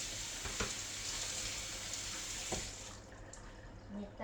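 Quiet, steady sizzling of food frying in oil, a soft continuous crackle with a couple of faint clinks.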